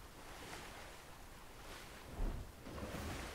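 Steady rushing wind in the game Fortnite sweeps through, swelling and fading in broad gusts, with no voices.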